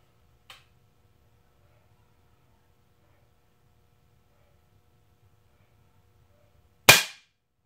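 A single sharp, loud crack of an air rifle shot lands near the end, preceded by a faint click and long near-silence.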